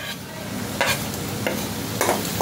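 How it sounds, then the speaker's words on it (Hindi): Onion frying with asafoetida in a pan, a steady close sizzle punctuated by three brief spatula scrapes as it is stirred. "हींग को भी डाल के भून लूँगी"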